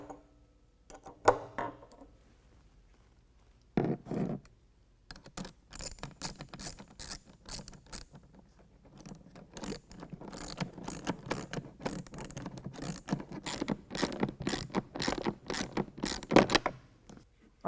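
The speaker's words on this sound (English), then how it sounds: "we're going to tighten this up using a 10mm" A 10mm wrench tightens a T-bolt clamp on an aFe Momentum air intake for a 2020 Ram 2500 6.7L Cummins, making rapid, close ratcheting clicks in steady bursts after a few scattered handling knocks.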